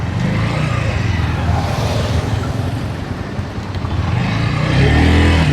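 Cars passing on a roadside, a continuous engine and tire rumble that swells toward the end as a vehicle draws near, fairly loud, with no talking.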